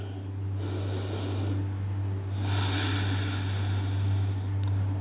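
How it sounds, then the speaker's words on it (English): Slow, deep breaths drawn in and let out during a Pilates child stretch on a mat, two long airy exhales audible over a steady low hum, close and fairly quiet. "Taking nice deep breaths in"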